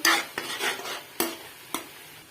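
Scraping, clinking strokes of a spoon stirring thick ridge gourd and chana dal curry with ground coriander in a pan, a few distinct swipes spaced irregularly over a soft sizzle.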